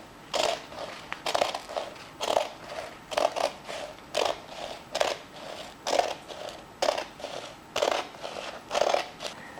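Scissors snip repeatedly through tarp fabric being trimmed to size, a series of crisp close cuts in an uneven rhythm of roughly one to two per second, with no talking.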